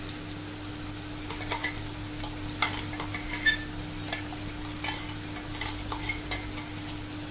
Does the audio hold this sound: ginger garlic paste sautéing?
yes